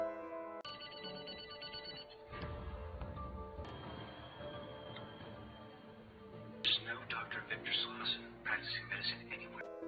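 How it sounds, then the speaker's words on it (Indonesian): A phone rings with a repeating electronic tone, then a second burst of chirpy ringing arrives, with voices and background sound underneath. "Victor yang melihat ponsel Linda berdering, segera mereject panggilan itu"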